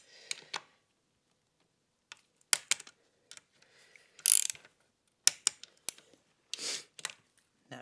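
A torque wrench ratchets while tightening bolts on a Honda Ruckus scooter, giving short bursts of crisp mechanical clicks separated by pauses, close and clear with no talking.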